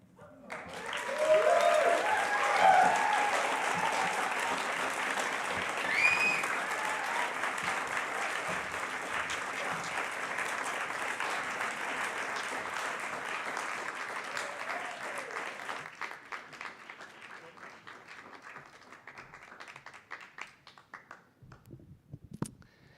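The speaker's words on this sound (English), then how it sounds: "One more round of applause for Roger and Carolina, Lucia, and Ben." Audience applause at a university summer writing program reading, a sustained round of clapping that swells quickly, holds steady for about fifteen seconds, then thins and fades out.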